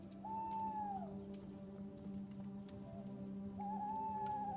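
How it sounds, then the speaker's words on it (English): An owl calls twice at night, each a soft drawn-out hoot, one near the start and one near the end, set against a steady low hum and faint crackling background with no one speaking. "An owl answers."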